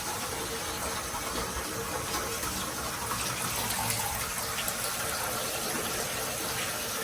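Water gushing through pipes after a valve is opened in a fishroom built inside an old barn, a steady, loud broadband rush that holds constant without pause.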